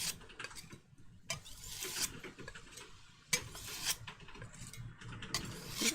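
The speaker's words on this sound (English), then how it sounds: "All the scraping noises" Paint being mulled on a slab makes soft, irregular scraping and rubbing strokes, close and fairly quiet, repeating in uneven bursts with no talking.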